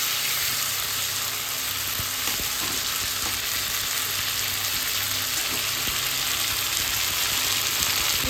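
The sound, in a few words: chicken pieces frying in oil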